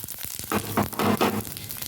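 Whole cumin seeds sizzle in hot oil as they are stirred for a fish ghonto, with crackling bursts and scraping strokes coming in a few uneven pulses, close and fairly loud.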